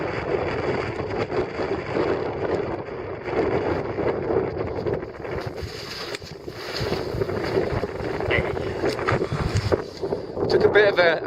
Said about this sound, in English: The wind's picked up though. Things are getting worse.